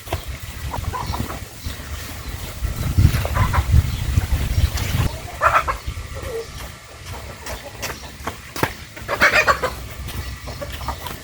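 Chickens clucking intermittently close by, a few short bursts over a low rumbling background, no speech.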